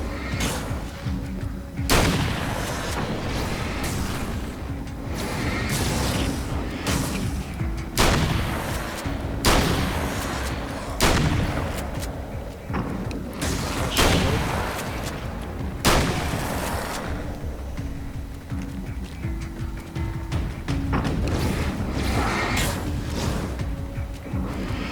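Repeated loud shotgun blasts in the video game Alan Wake's American Nightmare, booming shots at irregular intervals over a dense, continuous background of game noise and rumble.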